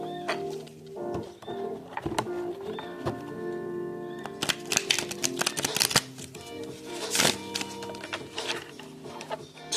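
Brand-new tarot cards are shuffled by hand in short riffling bursts, fairly close and soft, with pauses between rounds and faint background sounds.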